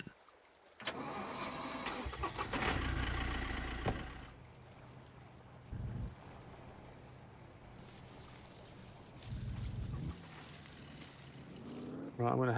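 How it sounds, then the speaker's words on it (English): A car in the SCUM video game starts up and drives off, its engine rising to a loud rumble for a few seconds, settling into a quieter idle, then revving again in short bursts near the end. "move my car a bit"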